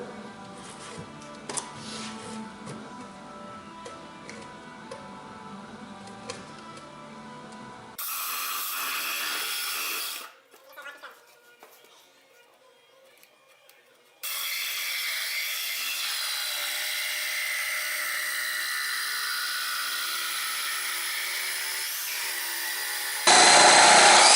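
A power tool cuts wood for a wooden case sign, running in long, steady, harsh stretches with a brief quieter pause midway, then starting up again loudly.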